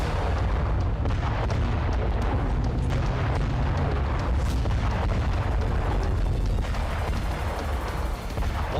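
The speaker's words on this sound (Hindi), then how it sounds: "बेलगोरोद में ही यूक्रेन ने रूस के रेडियो स्टेशन को इस धमाके से तहस नहस कर दिया।" An explosion tears through a Russian radio station in Belgorod, a dense, loud, continuous rumble of blasts and booms with scattered sharp cracks running throughout.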